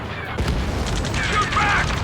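Gunfire and explosions in the combat flight game Ace Combat 7 during a rescue mission near a space elevator, dense booming bursts and rattling fire over a continuous loud rumble of battle, with voices speaking over it.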